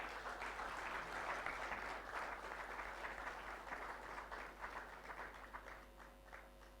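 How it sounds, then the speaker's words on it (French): Sustained applause from a ceremony audience, dense steady clapping at moderate distance that thins slightly toward the end, with no voices over it. "Sous vos applaudissements, s'il vous plaît."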